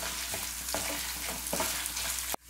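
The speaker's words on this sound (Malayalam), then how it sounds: "ഇനി നമുക്ക് ഇതിലേക്ക് 1/2 കപ്പ് അളവില് നാളികേരക്കൊത്ത് ചേർത്തിട്ട് അതൊന്ന് വറുത്തെടുക്കാം" Coconut pieces fry in a pan for soya chunks rice, a steady close sizzle with a few soft stirring scrapes, ending in an abrupt cutoff.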